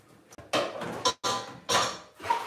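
A used baking utensil is washed behind the camera in a kitchen, with a few separate clattering knocks and scrapes of metal and crockery, close and moderately loud, separated by brief gaps.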